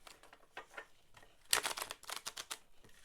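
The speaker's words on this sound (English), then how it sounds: "Get a few good shuffles in here." Tarot cards are shuffled up close, quiet rapid flicks and slaps building into a denser burst of riffling midway through.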